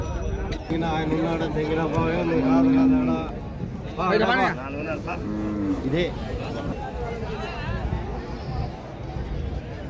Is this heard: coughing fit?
no